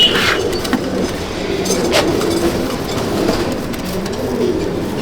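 Andhra Lambadi pigeons are released, with wing flutters and soft cooing over a steady background rumble resembling a passing train, fairly close and continuous.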